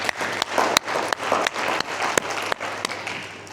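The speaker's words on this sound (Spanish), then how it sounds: "Vamos a darle otro aplauso al Señor" A church congregation claps together for the Lord, steady dense applause with a few sharper, louder claps standing out in the mix.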